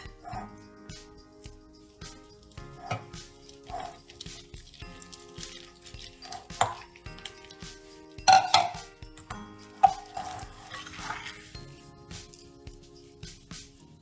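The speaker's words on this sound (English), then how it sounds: "The reason I'm using a fork here is because I don't want the butter to melt" Fork scraping and clinking against a bowl while cutting cold butter into flour, a series of light irregular taps and scrapes, close and fairly quiet, with a dog whimpering and yipping in the background.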